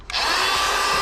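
An electric air pump kicks on abruptly and whines steadily as it inflates an air mattress for camping in a Tesla, loud and close with a continuous buzzing hum.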